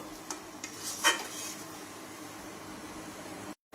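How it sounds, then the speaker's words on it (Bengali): Taro leaf mash is stirred in a pan over low heat, with a few soft scrapes and taps early on over a faint, steady sizzle, quiet and close with no talking. "এইভাবে আস্তে আস্তে নাড়তেই থাকবো"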